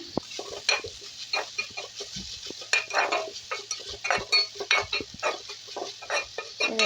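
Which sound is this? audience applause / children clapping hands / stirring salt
stirring salt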